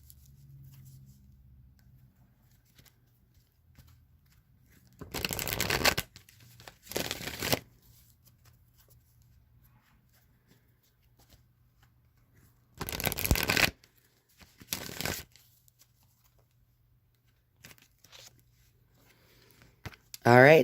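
Oracle card deck shuffled in short bursts, with three distinct riffling passes a few seconds apart, close and crisp against near-silence.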